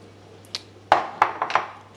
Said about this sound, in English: dump all the fennel in